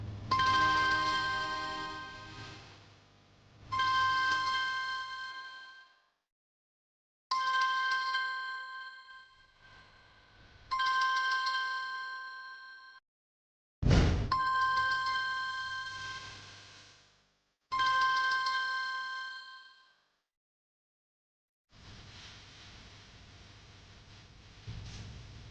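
A phone rings repeatedly in a Tamil TV drama scene, with electronic tonal bursts of about two seconds separated by short gaps and one sharp thump partway through, clear and fairly loud with no talking.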